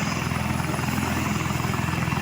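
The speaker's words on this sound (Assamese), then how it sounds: "জুবিন অহা ফিল্ডখনতেই এই এখন হেলিকপ্টাৰ আহি পৰিল" A helicopter lands in a field at Patharighat, its rotor throbbing in a loud, steady, close drone with no other sound above it.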